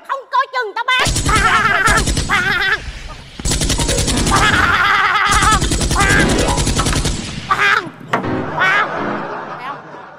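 A fake gun fires in a Vietnamese comedy skit: loud, sustained bursts of rapid machine-gun-style shots in long stretches, with people shouting and talking between and around the bursts.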